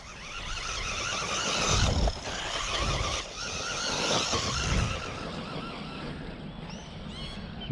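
JJRC Q130-C Pro RC car driving and sliding on low grass, a loud whining motor that rises and dips in surges with rustling scrapes, easing off toward the end.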